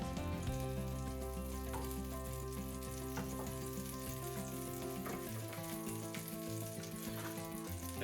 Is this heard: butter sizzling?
yes